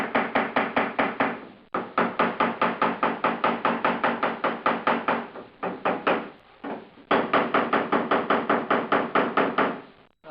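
Steady hammer blows pound the shaved sheet metal of a 1976 Mazda RX-5 Cosmo door back into shape, a long run of evenly spaced, ringing metallic knocks with two brief pauses.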